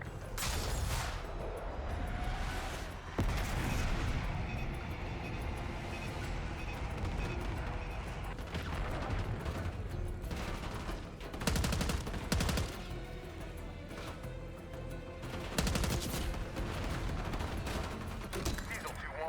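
Loud blasts and rolling rumbles from an air strike's bombs in the shooter game Call of Duty: Black Ops 6, several sharp impacts spread over a continuous din of combat noise, with radio chatter underneath.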